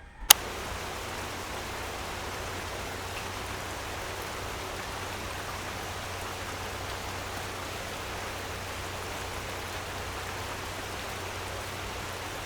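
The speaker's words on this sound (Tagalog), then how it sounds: "Hindi naman na masyadong malakas ang ulan mga meses." Steady rain falls in a continuous even hiss after a brief click at the start, with a faint low hum underneath.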